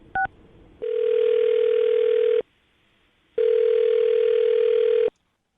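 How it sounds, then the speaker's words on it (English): A telephone beeps briefly as a number is dialed, then a steady ringback tone sounds twice in long even bursts separated by a pause, clear and close on the line. "I'm going to dial her phone number right now, see if we can get her on the phone"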